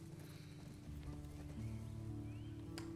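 Horse hooves clop at a steady riding pace in The Last of Us Part II, moderately loud under a sustained musical score, with no talking.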